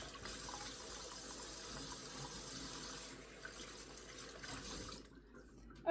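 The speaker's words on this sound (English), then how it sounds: "let me wash my hands because that's gross" A kitchen tap runs steadily while hands are washed under it, a soft continuous hiss of flowing water that cuts off near the end.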